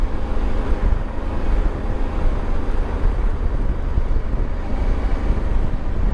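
A motorbike rattling along a bumpy country road, a steady loud broadband rumble with heavy wind buffeting the microphone throughout, no distinct engine notes standing out.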